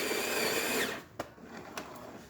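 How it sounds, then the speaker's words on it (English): A Jura Ena 8 espresso machine brewing a shot, its pump or grinder whirring steadily and loudly for the first second, then cutting to a quieter hiss with a couple of sharp clicks, no voices. "just to test only the spouts, we're gonna do an espresso shot"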